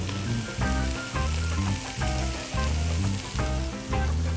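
Meat seasoned with rosemary, garlic, onion and black pepper and soaked in plenty of wine, frying in a pan with a loud, steady sizzle and crackle that pulses in rhythmic surges.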